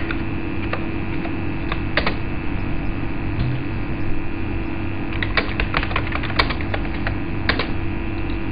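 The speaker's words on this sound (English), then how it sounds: "You can watch me typing the data." Computer keyboard typing in an office, bursts of quick light clicking keystrokes with short pauses between, close and clear over a steady electrical hum.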